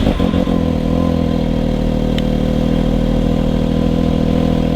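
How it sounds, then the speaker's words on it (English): A Can-Am engine with a new exhaust and blow-off valve fires up with a few quick cranking pulses, then settles into a steady, even idle that holds loud and close. "let's go ahead and give it the first start up since changing the exhaust and putting the blow-off valve on"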